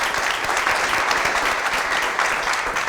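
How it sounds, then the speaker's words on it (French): Audience applause at a municipal election 2026 campaign meeting in Créteil, a dense steady wash of clapping hands lasting the whole stretch, moderately loud and close, with no talking over it. "On peut l'applaudir, s'il vous plaît."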